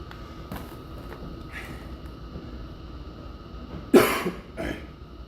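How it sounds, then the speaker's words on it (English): A single loud lingering cough bursts out close by, followed by a shorter, quieter second one, over a low steady background hum. "Haven't quite been able to kick this lingering cough."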